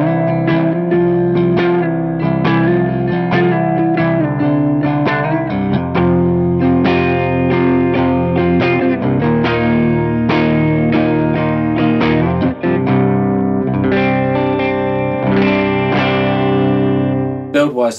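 An electric guitar played through an Analogman King of Tone overdrive pedal rings out in a continuous run of driven chords and single notes, with a warm distorted tone throughout.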